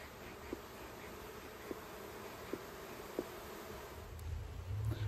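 Honey bees buzz around an open hive during a summer hive check, a faint, steady hum with a few soft taps and a low rumble near the end, no voices.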